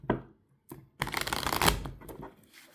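Oracle cards being shuffled by hand, a short riffle followed by a longer, louder papery flurry of cards sliding and slapping together close up, with no voices.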